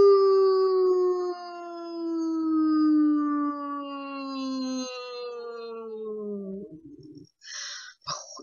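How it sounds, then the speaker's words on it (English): A pet dog howls along with a person's singing during a vocal demonstration at a telethon, a long sustained wavering tone sliding slowly downward, then breaking off into short rough noises near the end. "You might hear my dog in the background because he really likes singing too."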